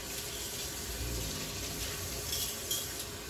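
Kitchen tap water runs steadily into a sink, a continuous broadband wash with a faint clink near the end, heard alone without talk.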